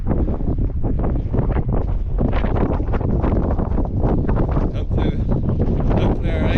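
Strong wind buffets a boat riding at anchor in rough weather, a constant roaring rush of gusts hitting the microphone, loud and unbroken throughout.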